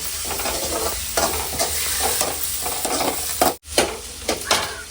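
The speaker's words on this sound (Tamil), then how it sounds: "வெங்காயம் வச்சு வதக்கணும்" Onions sautéing in a pan in a village kitchen, a steady close sizzle with repeated scraping strokes of a spoon stirring through it, and a brief dropout near the end.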